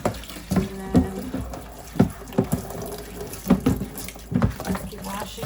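Running tap water splashes over a plastic seed tray being washed, a soft continuous trickle broken by irregular sloshes and knocks as the tray is handled, fairly quiet and close.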